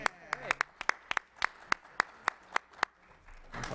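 An audience at a school district meeting claps in an even, rhythmic beat of a dozen sharp claps, moderately close, with faint murmuring underneath.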